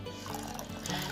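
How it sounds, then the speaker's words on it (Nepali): Water trickling onto sprouted fenugreek seeds for pickle, a short continuous close-up pour with a soft, full liquid wash from start to finish. "अब यसमा म थोरै पानी एड गर्दैछु"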